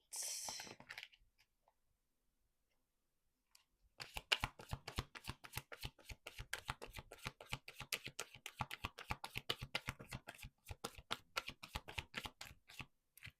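Tarot cards being shuffled by hand, starting with a short soft swish and a pause of near silence, then a long run of quick, crisp, rhythmic riffling flicks close by.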